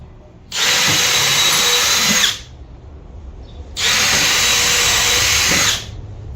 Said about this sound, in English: Never drilled or screwed into bamboo before,